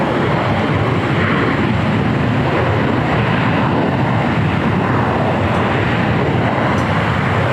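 An airliner takes off from runway 25 right at LAX with a loud, continuous broadband engine roar that holds steady and close throughout, with no voices.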